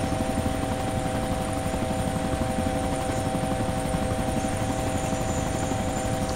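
A helicopter in the video game DayZ Epoch flies steadily toward a landing, a loud, constant rotor thrum with a fixed engine whine overhead and no speech.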